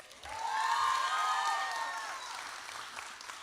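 An audience at a Volusia County talent exhibition breaks into a sustained round of applause and light cheering for a performer named Annie, rising quickly and then slowly tapering off.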